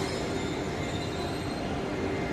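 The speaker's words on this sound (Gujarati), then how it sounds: "જો ઓલી જાય ટ્રેન" A train passes along a rail line near the France–Italy border with a steady, loud rumble of wagons and a thin metallic squeal from the wheels, continuous throughout.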